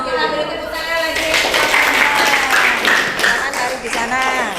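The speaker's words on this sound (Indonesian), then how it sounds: "Kita beri tepuk tangan lagi." Classroom clapping during a teaching practice session, with steady group applause mixed with children's voices and singing-like chatter throughout.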